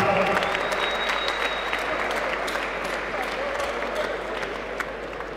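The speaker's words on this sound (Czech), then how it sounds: "Obrovský potlesk Jankovi Zacharovi." Large crowd at a Bratislava boxing event applauds loudly and steadily for 96-year-old 1952 Olympic champion Jan Zacharov, a dense continuous wash of clapping with a few sharper claps near the end.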